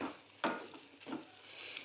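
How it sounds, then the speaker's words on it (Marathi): Mung beans sautéed in a pan, a soft sizzle with two scraping stir strokes, close but quiet and very short, with no voices. "आता यात आपण आपले सर्व मूग ॲड करून घेऊया त्याला छान परतायचं आहे"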